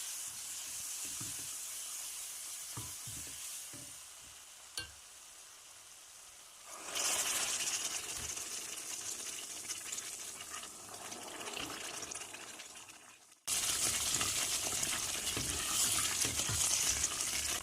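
Milk is poured gradually into hot semolina for milk helva and stirred, giving a steady hiss and liquid fill with soft scraping, growing louder midway and again near the end, no one talking.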